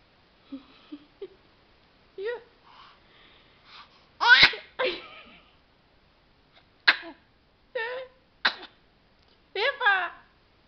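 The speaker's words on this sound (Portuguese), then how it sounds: "Que eu te espirro! Que eu te espirro!" A child sneezes and makes playful sneeze-like noises in short, sharp bursts, spread irregularly over about ten seconds with quiet gaps between them.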